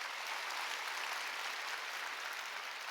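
Steady, even applause from a church congregation during a Korean Sunday worship service, a soft wash of many clapping hands heard from a distance, continuous and unbroken.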